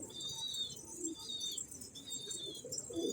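Faint pigeon coos and soft bird calls drift through a quiet outdoor scene, with a steady high tone running underneath.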